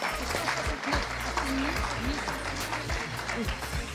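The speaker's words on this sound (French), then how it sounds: "On peut les applaudir." Audience applause at the Fondation SNCF 2016 awards ceremony, steady clapping from a hall crowd lasting throughout, with low music or voices running underneath.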